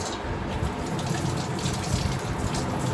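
Tap water gushes steadily and close by into a kitchen sink while an onion is rinsed under it, a continuous splashing flow with no talking.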